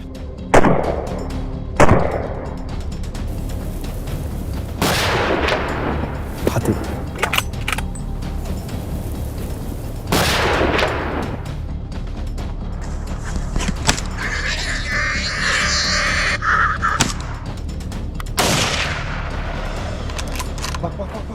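Gunfire from a wild boar hunt in Brandenburg near a peanut farm comes as several loud, separate shots spaced across the scene. Rustling and outdoor movement fill the gaps between them.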